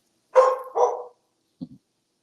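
A dog lets out two close barks, then after a pause gives two faint, short yips, with silence around them.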